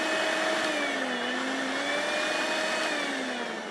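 A Panasonic blender motor runs steadily and loudly with its lid locked on, a continuous whine with a slowly wavering pitch and no talk.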